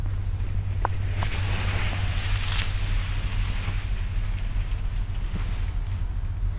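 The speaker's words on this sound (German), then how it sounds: "so langsam ist der Wind echt stark geworden" Strong evening wind blowing outdoors during a riverside trek, a loud continuous rumbling buffet with gusty swells and a few faint clicks, no voices.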